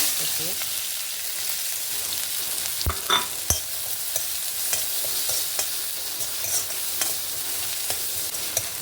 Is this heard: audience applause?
no